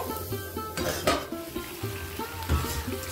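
Mutton keema with drumstick flowers being stirred in a pan, a steady frying sizzle under rhythmic scrapes and clinks of a spatula against the pot, with no voices.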